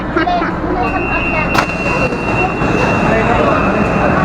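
An MRT train rumbles loudly and steadily, with a thin high whine running through as it pulls away; no clear speech stands out.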